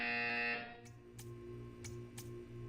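A buzzer in the video game Portal sounds as a loud, steady electronic tone for about half a second, then cuts off, leaving faint game hum with a few soft clicks.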